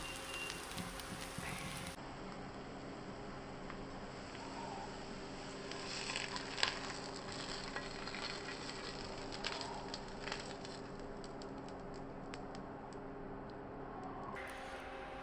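Sliced potatoes frying in oil in a pan for a simple Kerala-style potato stir-fry, giving a steady, soft crackling sizzle with scattered pops, close and continuous with no talk.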